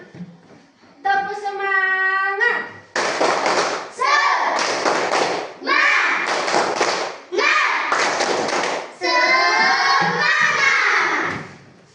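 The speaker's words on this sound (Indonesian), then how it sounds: "kita tepuk semangat dulu anak-anak" Schoolchildren in a classroom perform a rhythmic spirit clap (tepuk semangat), loud grouped bursts of claps and thumps alternating with chanted children's voices, a teacher's voice leading at the start.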